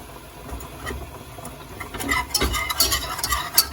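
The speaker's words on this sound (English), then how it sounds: "I'm whisking in the flour to the melted butter there" Flour is whisked into melted butter in a pan for a roux for a mac and cheese sauce, with a scraping, stirring clatter that grows busier and louder toward the end over a low background hum.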